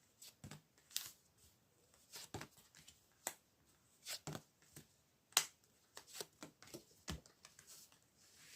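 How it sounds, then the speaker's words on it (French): Playing cards are shuffled and drawn in a quiet room, a string of soft crisp flicks, snaps and slides arriving in irregular bursts, close and faint with no voices. "on va essayer de tirer des cartes sur cette interdiction"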